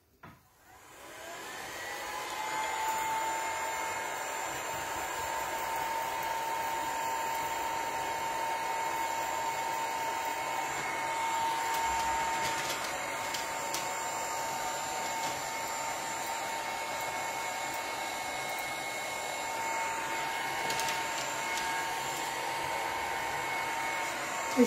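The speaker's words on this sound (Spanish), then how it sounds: "Vamos a secar. Secador acá." A handheld hair dryer switches on and blows steadily for over twenty seconds to dry paint on a mixed-media craft piece, a constant close whir with no talk.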